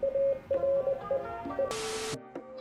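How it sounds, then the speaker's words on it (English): Morse code tones from a text-to-Morse website, a string of clean electronic beeps in short and long pulses with uneven gaps, close and clear, followed by a brief burst of static. "this one translates text to Morse code"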